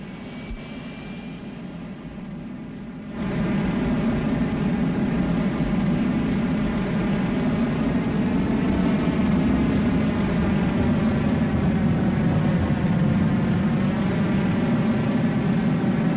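A propeller or jet airliner in the Workers and Resources video game rolls along a bumpy runway, with a steady, loud engine roar that swells after a few seconds and holds without a break.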